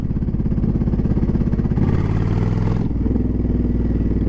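A motorcycle being ridden on a UK road carries a steady, close engine drone with a clear pulsing rhythm, shifting pitch twice as the rider changes gear, with no voices over it.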